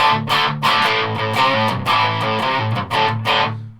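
Electric guitar played through a germanium Big Muff distortion pedal, loud saturated chords struck in a rhythmic riff with brief chopped gaps, ringing out at the end.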